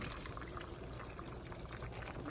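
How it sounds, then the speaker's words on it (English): A whole pot of butter-seasoned potatoes and water is poured into another pot of cooking cabbage, giving a steady, continuous splashing pour that runs unbroken from start to finish at low volume. "I'm just going to pour this whole pot into this pot with the water and everything"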